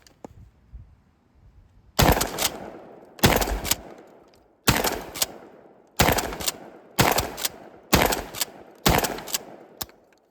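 KelTec KSG-12 bullpup 12-gauge shotgun firing seven loud, close shots in a steady rhythm about one second apart, each a sharp blast with a short decaying tail, after a quiet start.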